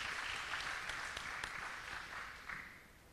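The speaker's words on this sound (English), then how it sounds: "let's give all of our panelists a big round of applause" A modest audience at a wildfire town hall applauds its panelists, a faint, thinning patter of claps with a few sharper individual hits that fades toward the end.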